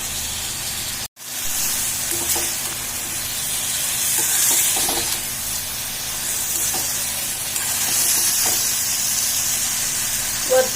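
A continuous soft hiss of steam from a covered pan of cauliflower steaming over water, steady and close, with faint clinks of utensils now and then.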